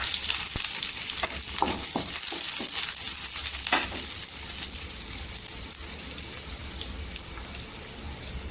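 A large onion hits hot oil with cumin and curry leaves and fries with a loud, dense, continuous sizzle close by, with a few sharp crackles and clinks early on.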